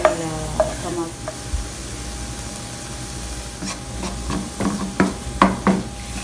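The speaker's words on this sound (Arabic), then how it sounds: "الحين راح اضيف الفلفل الاخضر والطماطم، وراح اضيف شويه ملح عشان يذبل الطماطم" Green peppers and tomatoes frying in a pan without oil, with a steady low sizzle and stirring, scraping sounds and occasional utensil clinks that grow busier toward the end; no one speaks.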